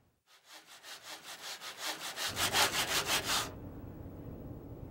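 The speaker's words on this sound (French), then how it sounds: "va la couper ta planche" A handsaw cuts through a wooden plank in a close, steady run of about sixteen rhythmic rasping back-and-forth strokes, then stops, leaving a low background rumble.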